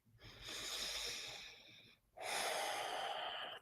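Two long, audible breaths during a guided meditation, one drawn in and one pushed out, each lasting under two seconds with a short pause between, close and fairly loud with no talking.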